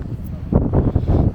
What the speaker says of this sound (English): don't know if you hear me properly because of the wind